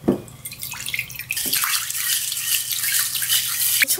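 Red beans are rinsed in a bowl of running tap water, with splashing, trickling and swishing up close, a sharp slosh at the start and another partway through, and no voices.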